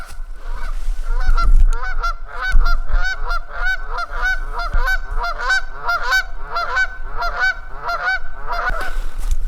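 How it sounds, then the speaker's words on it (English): A flock of geese honks repeatedly in a dense, overlapping chorus, loud and steady throughout, with low wind rumble underneath. "Ooh, there's a big old geese."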